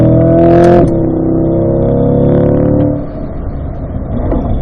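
A C8 Corvette accelerates on a race track, its engine droning loudly with a rising tone, a sharp gear-change break, then a lower, quieter pull as speed builds; heard from inside the car with no talk.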